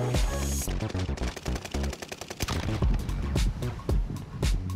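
Rapid bursts of gunfire rattle through a Warzone match, clustered automatic shots with brief gaps between volleys, loud and close.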